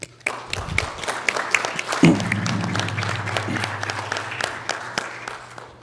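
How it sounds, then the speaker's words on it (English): Audience applause fills a convention centre hall at a First Nation voting event, a steady wash of clapping from a sizable crowd lasting several seconds, swelling after a moment and holding strong with scattered louder claps. "Let's give him a round of applause."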